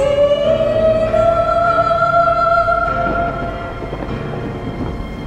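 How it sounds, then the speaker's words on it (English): Thunder rumbles loud and deep beneath a sustained eerie droning tone in a dark horror story soundscape, the rumble fading toward a crackling tail. "A shock of lightning christened the air, and just moments later thunder rumbled uneasily"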